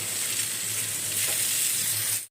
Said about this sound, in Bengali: শেষ বেগুন ভাজা।